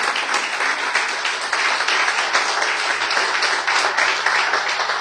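A church congregation claps and applauds for the Lord, a loud, dense and sustained burst of many hands with scattered cheering throughout.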